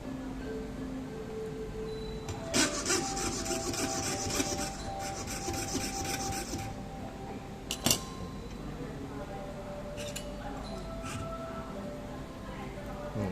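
A hand fret saw cuts through mother-of-pearl shell clamped to a wooden block, giving a close, dry rasp in quick repeated strokes, loudest in a few bursts, over a faint room hum.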